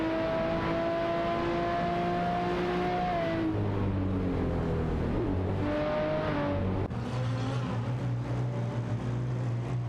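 Race cars in a racing video game overtake one another, their engine notes whining and sliding up and down in pitch as several cars pass, a continuous close drone with no voices.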